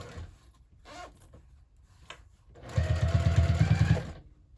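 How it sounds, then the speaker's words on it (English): A sewing machine topstitches a bag seam at an eighth-inch allowance, a loud steady burst of rapid stitching lasting over a second after a quieter stretch of faint handling noise. "we'll top stitch that at an 1/8 of an inch seam allowance"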